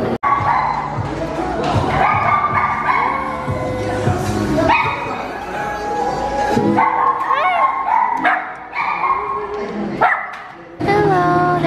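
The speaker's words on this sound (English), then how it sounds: "Hello, there's so many dogs." Many dogs bark and yip at a luxury dog pool, with repeated close and distant barks and some whimpering; people talk throughout.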